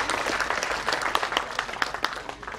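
An audience applauds a guest at an agricultural technology innovation ceremony in Pacitan, with dense, steady clapping from a crowd throughout that sounds fairly near and full.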